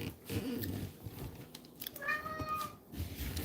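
A house cat meows in a home kitchen during evening cooking, a short drawn-out call heard fairly near over low background clatter and room noise.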